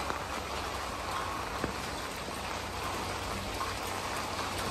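Rain pours down in a flooded urban village in Xi'an, a dense, unbroken patter of drops striking pavement and standing water, close and steady throughout, with no one speaking.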